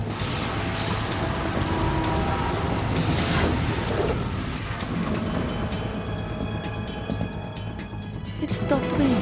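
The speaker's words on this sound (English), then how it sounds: "It stopped raining." Heavy rain and rolling thunder in the Metal Gear Solid 2 tanker chapter form a dense, steady roar that swells and fades, with voices talking over it.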